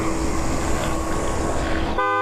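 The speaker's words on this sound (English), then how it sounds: "a car honking outside" A car horn outside gives one sustained honk, loud and steady, over low traffic rumble before cutting off abruptly.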